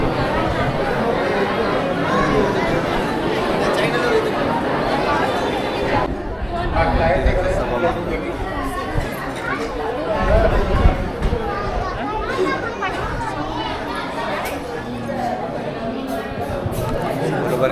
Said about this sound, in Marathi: ऑगस्ट असल्यामुळं आज गर्दी आहे भरपूर.